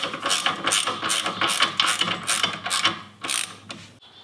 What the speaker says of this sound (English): Grab a 19 millimeter socket and then tighten this up.